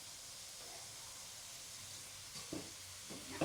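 Cinnamon stick, cloves and star anise are stirred in a pot, a faint, steady hiss with a few soft clinks of the utensil near the end.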